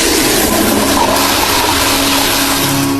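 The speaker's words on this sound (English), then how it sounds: "the flush behind Jeff made a sound." A toilet flushing in a restroom during a thriller film scene: a loud, continuous rush of water that fills the whole stretch with no pauses and no voices.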